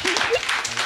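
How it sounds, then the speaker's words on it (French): Audience applause at a regional awards ceremony, a steady wash of many hands clapping in a hall with a voice speaking over it. "Bravo Mandarine Radisson, on peut encore vous applaudir."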